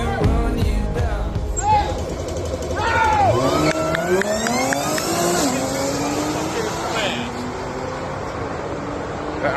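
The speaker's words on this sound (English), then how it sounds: "That Audi fast in the mud." An Audi A6 3.0T races through mud, its engine revving loudly and sweeping up and down in pitch with rising and falling whines, while voices shout over it throughout.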